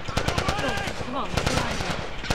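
Rapid bursts of automatic gunfire crackle through a firefight in The Last of Us, the repeated shots overlapping loudly and continuously while someone shouts over them.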